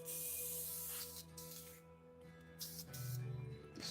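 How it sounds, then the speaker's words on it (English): An airbrush sprays in short, hissing bursts while it is rinsed out during miniature painting, fairly close and steady, with brief pauses between the sprays. "just gonna give my airbrush a quick rinse"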